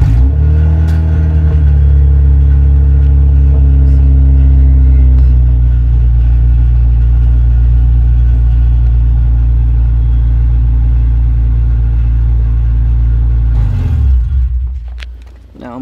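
A Honda Civic with an H-series swap running an Accord ECU cranks and fires, then holds a loud, steady, close-up idle with a deep rumbling drone before cutting off near the end.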